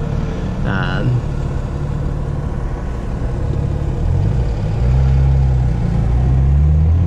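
A BMW M2 manual car engine drones steadily from inside the vehicle while driving, deepening into a louder rumble partway through, with a brief voice early on.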